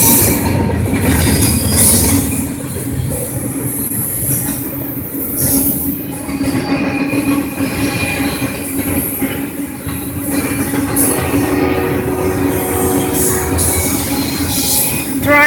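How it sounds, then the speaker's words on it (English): A train passing at night in Arizona, a steady loud rumble of railcars with squealing wheels and clattering rails that fills the whole stretch without pause. "That is a train."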